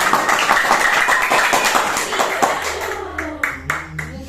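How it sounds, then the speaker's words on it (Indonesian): Students in a classroom lesson clap together in a quick, dense burst lasting a few seconds. The clapping thins into scattered claps as a voice and murmuring rise at the end. "Betul sekali, tepuk tangan."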